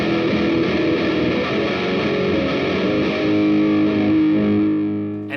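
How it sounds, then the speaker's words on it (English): Electric guitar played through a light sub-octave effect into overdrive and reverb, producing a thick, distorted sustained tone with held notes that ring steadily and swell slightly before fading at the end, loud and alone. "that light sub-octave into the overdrive, into the reverb"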